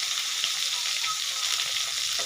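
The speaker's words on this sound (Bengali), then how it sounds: "আলুটা একটু ভেজে নিচ্ছি" Potatoes fry in a pan with turmeric and salt, giving a brief, soft, steady sizzle heard up close with no talking.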